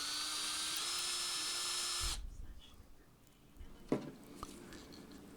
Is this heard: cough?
no